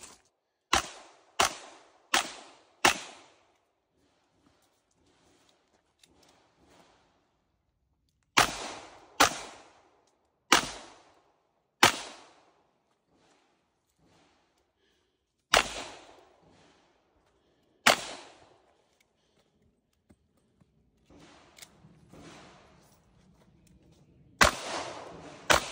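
Sharp gunshots from a Ruger GP100 Match Champion 10mm revolver crack at a range, fired in quick bursts of several rounds separated by pauses, loud and close, with faint background sounds between strings.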